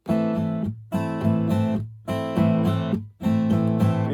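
Acoustic guitar strumming a chord in a slow verse rhythm, four bursts of steady strums, each section cut short so the ringing stops abruptly before the next begins; close and clear with no talking.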